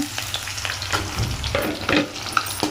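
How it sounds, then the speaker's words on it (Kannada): Onions and mustard seeds frying in oil for shavige bath, a steady close sizzle and crackle with light stirring scrapes throughout, no voices. "ಚೆನ್ನಾಗಿ ಫ್ರೈ ಮಾಡ್ಕೊಳ್ಳೋಣ"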